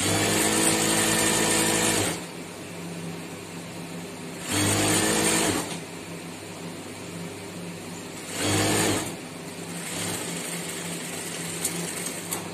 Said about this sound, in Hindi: जैसा कि इसमें सिलाई हमारी इसकी कंप्लीट हो गई, कलियों की सिलाई मुकम्मल कंप्लीट हो गई।